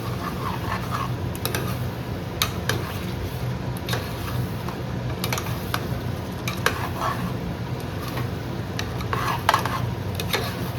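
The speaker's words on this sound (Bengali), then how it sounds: "এইবার ভালো করে মশলাগুলোকে, মানে গুঁড়ো মশলাগুলোকে মিশিয়ে নিচ্ছি।" Ground spices being stirred into chicken in a pan, a steady scraping and stirring over a continuous sizzle, with scattered clinks of the utensil against the pan and no talking.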